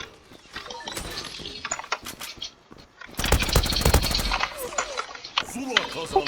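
Gunfire rattles in the online shooter Zula, with uneven bursts of rapid shots that swell into a loud, dense volley midway and then return as scattered, close shots.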